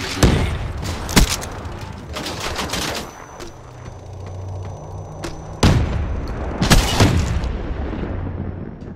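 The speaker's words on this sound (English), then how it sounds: "Incoming grenade." Gunfire and explosions in Call of Duty: Black Ops 3, with a grenade blast among them: loud bursts of shots and booms open the clip, a quieter stretch with a low rumble follows, then more heavy bangs arrive near the end.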